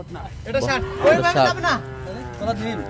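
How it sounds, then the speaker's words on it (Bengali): Sahiwal cattle, cows with bull and heifer calves, at a farm low, drawn-out moos close by, two or three calls heard while people talk alongside. "মোহন ভাই, তাহলে কয়টা গাভী বাছুর এখানে?"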